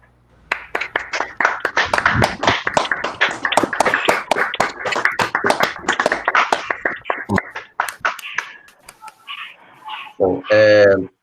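Scattered online applause from a colloquium audience through open microphones, uneven overlapping claps and taps for several seconds, thinning out before a brief voice at the end.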